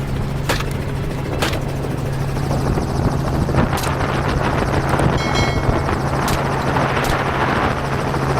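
A helicopter's rotor throbs steadily with a constant engine drone, close and loud, during a wild boar hunt, with a few sharp cracks of gunfire breaking through.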